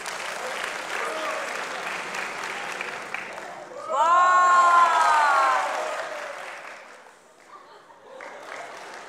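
A studio audience at a Turkish talent show applauds at moderate strength, swelling with whoops and cheers in the middle before tapering off, while a voice talks through the start.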